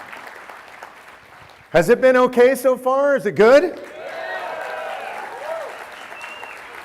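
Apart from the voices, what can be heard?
audience applause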